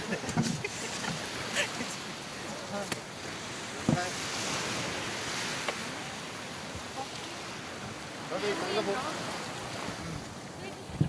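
Ocean waves wash and roll in a steady, hissing surf on a day of high waves, with wind brushing the microphone and occasional faint voices in the background.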